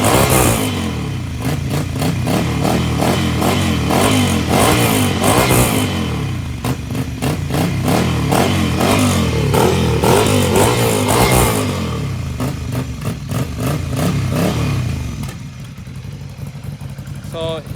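A motorcycle fitted with a dB killer in its exhaust idles and revs in rhythmic pulses, loud and close, with a person talking over parts of it before the engine settles lower near the end.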